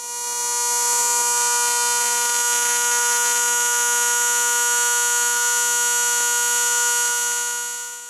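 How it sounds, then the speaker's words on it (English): An AC TIG welding arc on aluminum at 240 hertz makes a loud, steady, high-pitched electrical buzz that swells in, holds evenly for several seconds and fades slightly at the end, with no talking. "So we can hear the change in the arc as we increase the frequency rate."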